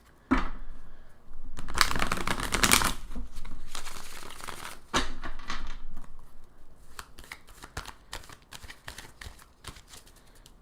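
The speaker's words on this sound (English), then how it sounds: "One more little shuffle here for the Tauruses." Tarot cards being shuffled by hand, close and fairly loud, with a dense riffling burst followed by softer slipping and tapping of the deck and crinkly handling noises.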